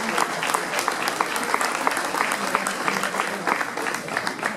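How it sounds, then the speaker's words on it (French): A crowd at a half-marathon event in Beaune gives a brief round of applause. The clapping is steady and fairly loud throughout the short stretch. "un petit peu d'applaudissements encore"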